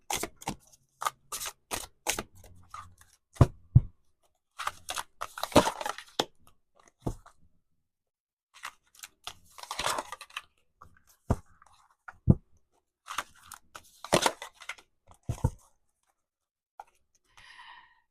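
Tarot cards shuffled by hand make short bursts of riffling and tapping with pauses between them, close and fairly quiet.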